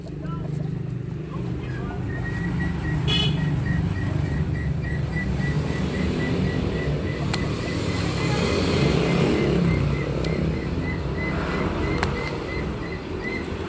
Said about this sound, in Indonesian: Videonya berisi banyak suara motor, maklum ada di depan jalan raya